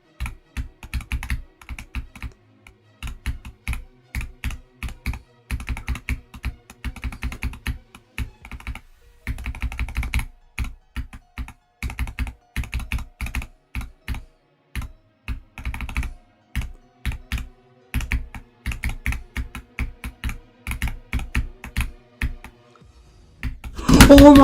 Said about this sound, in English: Very, very high-end keyboard.